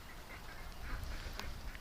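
Ducks in a backyard after a rainy morning give a few faint, distant quacks against a steady background hiss.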